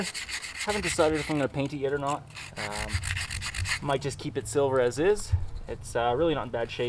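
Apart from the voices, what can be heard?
sanding a differential housing with sandpaper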